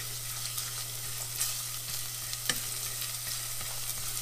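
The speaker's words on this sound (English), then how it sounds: "I'm going to stir this around for about a minute. Let the garlic cook." Garlic sizzles steadily in hot olive oil as a spoon stirs it around the pan, giving a continuous close frying hiss with soft scraping clicks, no talking.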